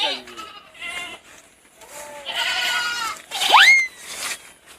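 Goats bleating in a goat pen, several wavering calls rising and falling over about five seconds, one loud close bleat near the end, with other animal cries mixed in.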